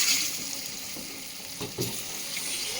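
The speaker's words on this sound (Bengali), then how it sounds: "ডিমগুলো দিয়ে দিলাম ভালো করে ভেজে নিচ্ছি ডিমগুলো" Eggs frying in hot oil seasoned with salt and turmeric for an egg curry, a soft continuous sizzle close by with a couple of brief stirring scrapes.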